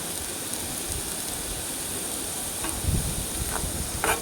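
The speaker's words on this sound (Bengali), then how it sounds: "এই দেখো এদিকে আলু ভাজা বসিয়ে দিয়েছি" Potatoes frying in a pan alongside flatbread being cooked at home: a steady, even sizzle and hiss fills the scene, with a few faint clinks and scrapes near the end and no talking.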